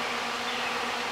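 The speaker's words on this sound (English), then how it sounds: "The background noise you hear now is the fan" Steady broadband whir of a cooling fan running on an induction heater setup, a constant airy hiss with a faint low hum beneath, alone and fairly quiet.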